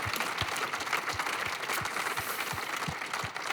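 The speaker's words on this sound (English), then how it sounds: "let's give one more round of applause for the finalists at least" An audience at a competition grand finale in Helsinki applauds the finalists, steady dense clapping throughout at moderate level with no talk.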